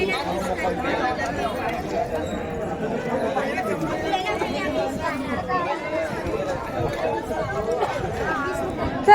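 Dense crowd chatter fills Trimbakeshwar temple during Shravan, many overlapping voices in a steady, close babble with occasional louder calls.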